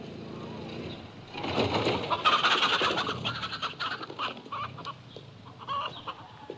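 Several chickens cluck and squawk close by, rising to a busy, agitated burst in the middle before settling, with faint voices mixed in.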